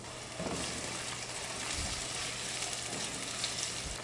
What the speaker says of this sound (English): Let me start working on the saute and show you how we do it